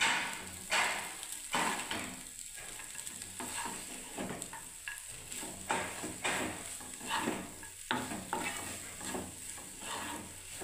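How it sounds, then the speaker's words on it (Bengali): Maggi noodles being stirred in a pan: steady scraping and clinking of a spoon against the pan over a continuous soft sizzle, close and fairly quiet, with no talking. "নেড়ে দিচ্ছি ভালো করে বেশ রান্নাটা ম্যাগি"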